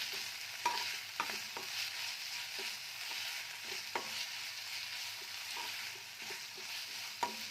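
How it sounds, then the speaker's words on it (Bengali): Spice paste sautéing in a pan, a soft continuous sizzle broken by regular clicks and scrapes of a stirring spoon against the pan, with no talking. "আমি মশলাটাকে ভালো করে কষাবো।"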